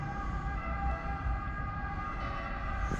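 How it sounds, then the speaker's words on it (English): A continuous police siren wailing steadily, somewhat distant, over low rumbling traffic noise near an Italian marina, with no talking. "the local police seem to like driving around with their sirens on"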